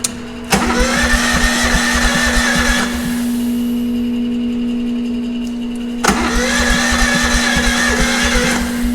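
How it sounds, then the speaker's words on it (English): A John Deere 9RT tractor engine runs with a loud, steady hum close by, broken by two sharp clanks or restarts that surge into a rougher, busier roar before settling again. "But at least we know we have a running engine."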